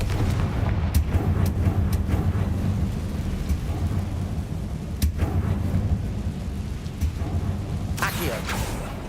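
Confringo fire-spell blasts from Hogwarts Legacy land as a few sharp, booming bursts spaced several seconds apart, loud over a rumbling game background, with the last one the brightest and harshest.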